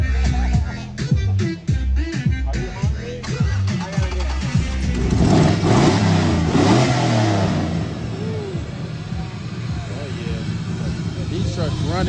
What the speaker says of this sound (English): These trucks running, y'all.